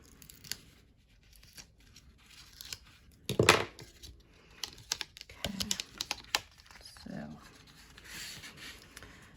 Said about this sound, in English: Just peel off your backing of your tape.